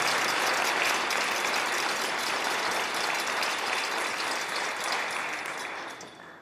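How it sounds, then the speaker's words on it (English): Sustained applause fills a school hall at a high school strings orchestra winter concert, a dense clapping crowd that holds steady and then begins to taper off at the end. "Let's give these two guys a round of applause."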